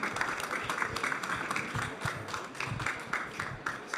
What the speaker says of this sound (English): Can you join me giving a big round of applause to the speakers in the first segment?